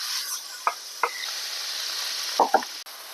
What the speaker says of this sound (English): and now I will brown the meat on a pan